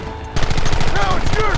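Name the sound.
gunfire in the video game Red Dead Redemption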